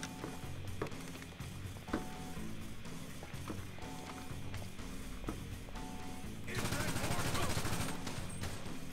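Gunfire from GTA V Online during a military base assault, scattered sharp shots spread through the scene under background game music, followed by a louder, denser burst of noise near the end.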